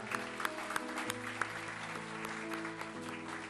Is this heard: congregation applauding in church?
yes